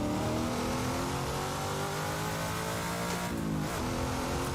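Loud continuous race car engine revving high in the racing game Assetto Corsa, pitch wavering and dipping briefly near the end, with no voices.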